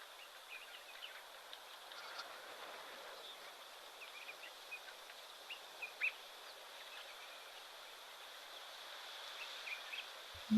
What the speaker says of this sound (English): Sounds like maybe dark-capped bulbuls calling, some little pretty tweety birds.